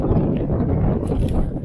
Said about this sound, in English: Again, apologies for the wind noise.